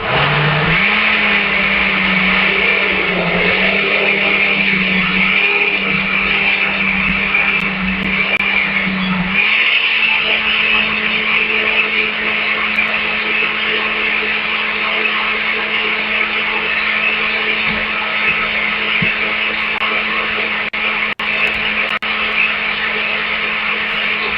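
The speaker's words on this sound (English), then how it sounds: "you guys have ever seen one of these blender things, but this is how they work" A kitchen blender runs steadily and loudly for the whole stretch, its motor pitch shifting slightly partway through, with no talk over it.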